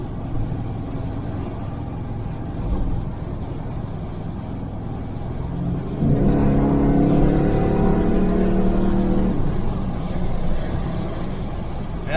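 A 1968 Chevelle Nomad driving on the road, a low engine drone with road rumble that rises into a stronger, louder pull about halfway through.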